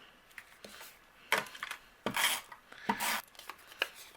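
Adhesive tape runner pressed and rubbed along paper onto a card base, a few short dry scraping and rasping strokes, close and fairly quiet, with no talking.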